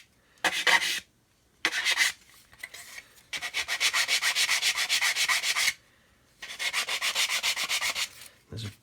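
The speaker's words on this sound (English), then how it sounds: "Be careful not to snap this bit when you sand it." Small part sanded by hand on a workbench during a buffer build, with bursts of rapid back-and-forth rasping strokes, a longer steady run in the middle and another near the end, close and fairly loud with no talk.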